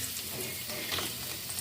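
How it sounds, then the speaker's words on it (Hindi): Onion frying in hot cooking oil, a quiet, even sizzle with faint stirring movement, brief and steady. "कुकिंग ऑयल गर्म हो गया, अब इसमें हम प्याज डालेंगे"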